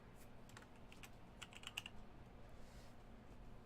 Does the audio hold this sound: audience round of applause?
no